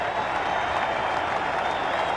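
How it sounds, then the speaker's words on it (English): A cricket crowd at the 1994-95 Sheffield Shield final, Queensland versus South Australia, breaks into warm, sustained applause after a wicket falls, with a dense wash of clapping heard from a distance. "Crowd are delighted."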